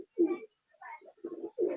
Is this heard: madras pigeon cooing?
yes